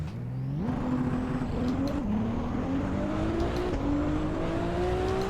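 A Ferrari in Assetto Corsa pulls away from a standing start, its engine note climbing steadily through the gears with brief dips at each shift, loud and continuous.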